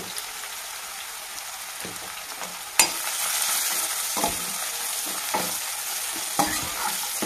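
Crushed garlic cloves with a little turmeric frying in a pan, a continuous bright sizzle with occasional stirring scrapes and a sharp clack partway through, close and loud with no talking.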